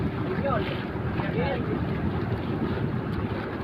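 Strong wind buffets the microphone in a steady, dense roar, with faint water sounds and a few brief bird-like chirps near the start.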